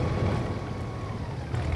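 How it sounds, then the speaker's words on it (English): Cotton harvester engine idling in Farming Simulator 22, a steady low rumble with a faint whooshing hum, heard alone at a moderate distance. "I think I've left the engine running in the cotton harvester."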